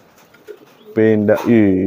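A pigeon gives a close, loud throaty coo in two bursts near the end, after a quiet stretch with faint movement.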